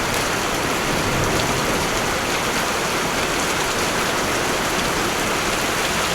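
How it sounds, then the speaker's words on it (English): Small hail falls on a car lot as a dense, loud, unbroken hiss of tiny impacts, steady throughout with no voices. "So far it's small hail"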